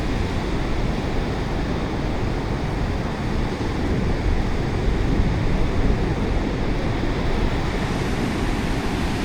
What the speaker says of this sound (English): Some major surf there too.